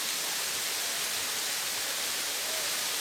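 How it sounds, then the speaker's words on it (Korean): Gardmau waterfall, a Pacific island forest cascade plunging about 30 m, roars as a dense, constant, close rushing hiss of falling water with no voices. "가슴속까지 시원한 폭포를 경험할 수 있다."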